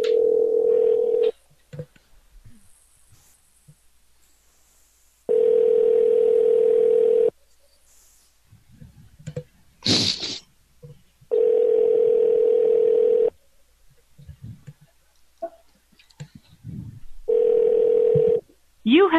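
Steady telephone dial tone sounding in repeated bursts of about two seconds while a call is placed, separated by gaps with brief clicks and faint background noise.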